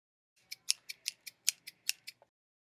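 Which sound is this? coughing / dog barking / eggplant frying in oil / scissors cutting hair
scissors cutting hair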